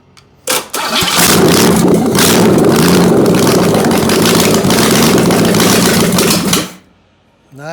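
A 1968 Camaro's 327 small-block Chevy, not run since 1992, cranks briefly then catches and roars loudly for about six seconds at high revs before cutting out abruptly.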